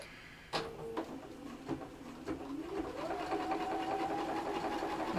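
A sewing machine bastes along the zip edge of a fabric vanity case, starting with a few separate stitching bursts and then settling into a steady, continuous whir that runs to the end, fairly close and moderately loud.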